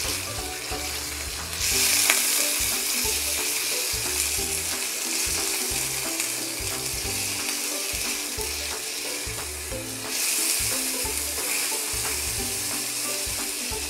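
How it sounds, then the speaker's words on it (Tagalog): Chicken pieces sizzle and fry steadily in a hot pan with onions, a dense continuous crackle with occasional stirring scrapes, close and loud throughout. "Lagay muna natin yung chicken."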